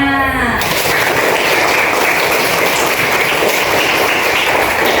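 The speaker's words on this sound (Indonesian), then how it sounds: "Kita beri tepuk tangan dulu untuk kelas 6 atas kehadirannya." A sixth-grade class applauds together in a classroom, a dense, steady wash of clapping filling the room after a brief voice at the start.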